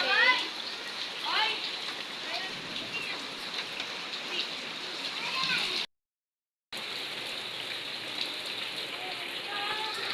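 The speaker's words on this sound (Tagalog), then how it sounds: "so ulan ng ulan" Steady rain patters on surfaces in a continuous hiss, with faint high chirps or meows scattered over it.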